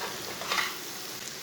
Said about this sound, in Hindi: 1 मिनट तक अंडों को भून लेना।